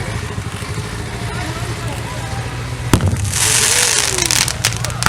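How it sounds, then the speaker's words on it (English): Artillery pieces fire at a WWII battle reenactment in an outdoor arena: a sharp, loud boom lands near the middle, followed by rolling rumble and crackling bursts over a steady engine drone and crowd noise. "The Allies are firing back with their artillery pieces"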